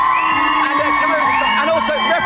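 A studio audience at a Girls Aloud event cheers loudly and whoops for a contestant, with excited shouts rising over a steady crowd roar from start to finish.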